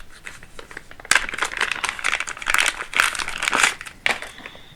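Packaging for a Nintendo Switch 2 crinkles and rustles close up as it is opened, with irregular bursts of plastic and paper crackling and a couple of sharper tearing snaps.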